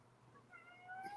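A house cat gives a short, rising meow, fairly faint against a quiet indoor background, with no one talking over it.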